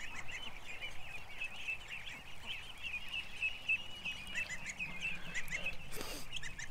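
Geese honking close by outside a barn, a run of repeated nasal honks in quick irregular bursts over soft background noise, with no one talking.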